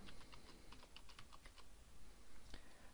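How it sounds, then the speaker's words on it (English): Rapid, steady keystrokes on a computer keyboard enter a database name, clicking close and continuous over a faint background hum with no voices. "You type in the database name."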